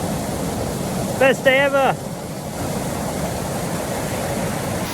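Steady broadband rush of a waterfall in Wales fills the whole clip, loud and continuous, with a brief excited shout from a person over it near the middle.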